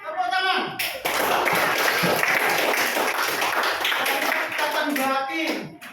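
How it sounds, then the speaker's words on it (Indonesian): A classroom full of students claps in a dense, loud burst of applause lasting several seconds, with a voice speaking just before and just after. "Ya, tepuk tangan."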